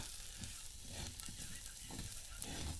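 A bitter medicinal wild green vegetable from Konkan, salted and stirred, sizzling softly in a pan with faint intermittent stirring scrapes, quiet and steady throughout.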